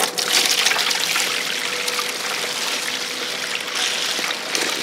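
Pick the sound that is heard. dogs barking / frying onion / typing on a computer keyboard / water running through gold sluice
water running through gold sluice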